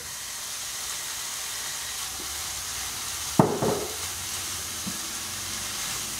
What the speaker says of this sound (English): So the sausage has been cooking down, frying down for about 5 minutes or so